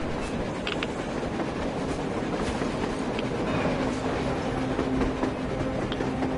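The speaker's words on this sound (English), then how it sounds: "A train! A damn train on the surface!" A video game train rumbles steadily past on the surface with a constant roar and faint rhythmic clatter, a few thin squeaks rising above it.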